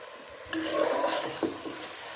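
Finely chopped onions, several medium ones, frying in a cup of oil for a daal qeema biryani, a steady sizzle with a couple of sharp stirring clinks from a spoon.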